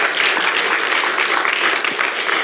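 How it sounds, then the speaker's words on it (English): A large conference audience at an inaugural address gives a big, dense round of applause, steady and loud throughout with no voices standing out. "can we have a big round of applause before we begin with our sessions"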